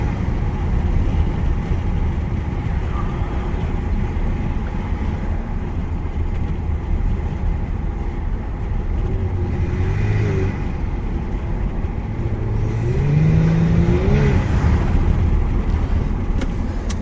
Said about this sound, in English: with the windows down, a lot of intake noise is really what you hear first